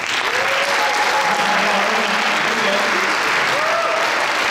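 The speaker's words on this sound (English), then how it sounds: "The round of applause for the concert band." A school concert audience applauds a high school jazz ensemble, a dense, even wash of clapping that runs throughout, with faint voices and tones drifting underneath.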